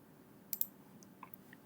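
A few sharp, quiet mouse clicks, two close together then a couple more, against near silence while setting up PLC software.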